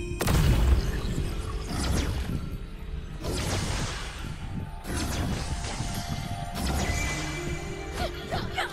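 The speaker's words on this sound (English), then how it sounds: "Let's see if I can throw a bomb first." A bomb is thrown and explodes in the video game Kena: Bridge of Spirits. Several loud crashing booms come in quick succession, each with a whooshing burst and a rumbling tail, close and full.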